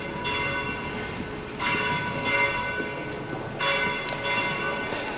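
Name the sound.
church bells ringing at 7 pm in Vilches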